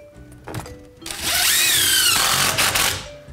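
A power drill drives a screw into a 2x4 behind drywall to anchor a bulkhead frame, the motor winding up to a steady loud whine for about a second and then cutting off, with brief clicks and handling before it.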